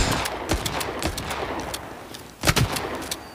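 Shotgun blasts in the mobile shooter Battle Prime: a string of sharp separated shots, some quick doubles, with a louder pair near the end over a faint game background.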